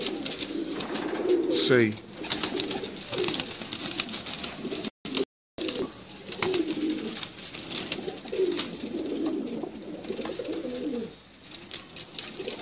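Teddy pigeons on a rooftop coo in repeated soft, throaty phrases close by, with someone speaking briefly between the calls.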